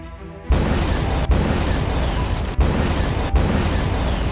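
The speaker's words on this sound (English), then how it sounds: "Listen to how all of the explosions sound the same" Loud cinematic film explosion effects boom one after another, four blasts in quick succession, each rolling into a sustained roar before the next hits.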